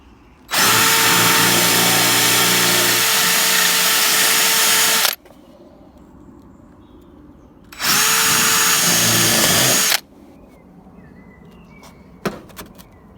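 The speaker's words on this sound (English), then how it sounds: "It's quite easy to drill through, but it does generate a lot of swarf and bits everywhere." Two bursts from a power drill boring a 7mm hole through double-skinned plastic on a Land Rover Freelander 2, a long loud whining run then a shorter one, separated by quiet pauses with light clicks and rattles.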